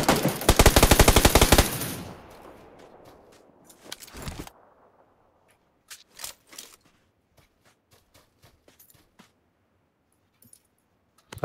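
Gunfire in the video game PUBG Lite opens with a loud, rapid automatic burst lasting about two seconds. A few sharp single shots follow, spaced apart, with quiet gaps between them.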